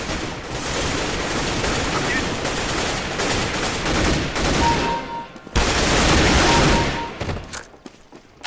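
Rapid gunfire from the Counter-Strike: Global Offensive video game fills the clip, dense overlapping bursts of shots running almost continuously, with a brief lull near the middle and sparser shots at the end.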